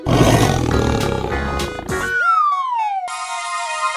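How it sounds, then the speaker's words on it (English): A cartoon tiger lets out a loud, close roar that follows a burst of busy music and fades into a long falling tone, with a bright sustained note at the end. "Tiger."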